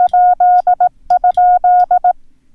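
The Morse code question mark is keyed as a steady pure-tone beep in crisp on-off dots and dashes, sent twice in a row with a brief gap between, loud and clear with no talking.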